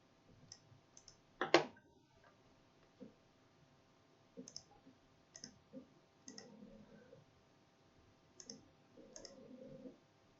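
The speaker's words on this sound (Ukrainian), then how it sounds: "Клікаємо лівою кнопкою миші" Mouse button clicks on a computer while animation effects are set up in PowerPoint, heard as scattered faint clicks with one sharper, louder click near the start and soft handling noise between.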